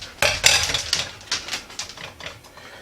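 Oysters and ramen noodles tumble into a bowl with a quick run of sharp clinks and clatters against the dish, close and busy for a couple of seconds.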